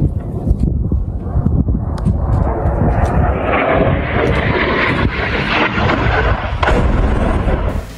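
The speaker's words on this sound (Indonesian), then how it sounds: "rudal Israel meledakkan sebuah rumah di Deir al-Balah" An Israeli missile strike blasting a house apart in Deir al-Balah, Gaza, a loud sustained roar of explosion and rushing debris that swells and rumbles heavily throughout without a break.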